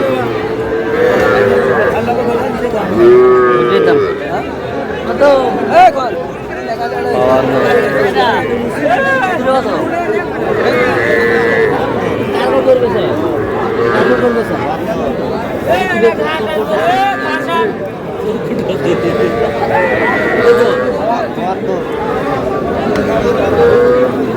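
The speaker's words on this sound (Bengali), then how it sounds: "ষাঁড়।" Cattle moo among a crowd at a busy livestock market in Madaripur, where small bulls and heifers are for sale; lowing calls rise repeatedly over constant chatter and bargaining voices nearby.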